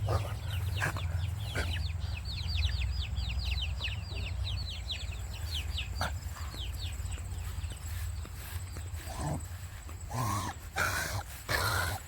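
A baby chicken chirps and clucks in rapid repeated bursts over a steady low hum, then falls quieter, with a few knocks and thumps toward the end.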